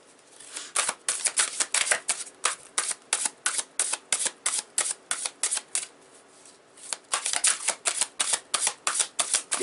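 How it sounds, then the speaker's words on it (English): Tarot cards are riffled and shuffled in a steady run of crisp, papery flutters and slaps, close and fairly loud, with a brief lull midway before the rapid shuffling resumes. "I'm going to pull a bit of tarot for these two cards right here."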